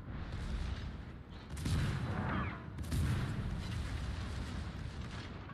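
Guns of the Smolensk, a tier 10 Russian light cruiser in World of Warships, boom in two strong salvos over a constant low rumble, fairly loud with a rolling tail.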